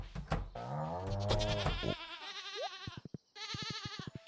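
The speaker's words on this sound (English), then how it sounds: "We have a single sheep and it's the loudest animal on the farm" A single sheep on a Stardew Valley farm lets out loud, clear, wavering bleats in a couple of bursts, with short clicks and game tones between them.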